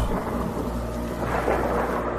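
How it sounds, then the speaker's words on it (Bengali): Heavy rain pours steadily at night while a deep, rolling rumble of thunder swells underneath, loud and continuous with no voices. "জোরে বৃষ্টি হচ্ছিল। মেঘের গর্জন যে কারোর মনে আতঙ্ক সৃষ্টি করার জন্য যথেষ্ট ছিল।"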